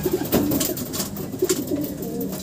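Pigeons coo in a loft, several soft repeated throaty calls overlapping close by, with rustling and shuffling around them.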